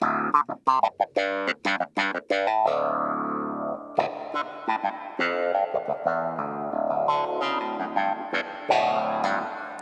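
A keyboard clavinet plays choppy, percussive notes and then sustained tones, washed in reverb and repeating delay echoes, close and alone with no talking.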